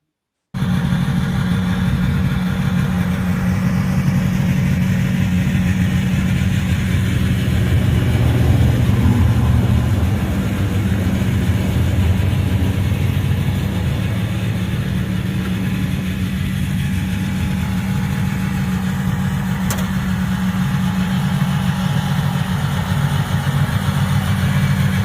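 A vintage tractor engine runs steadily with a low, loud rumbling drone that holds an even idle-like pitch throughout, close and alone with no voices.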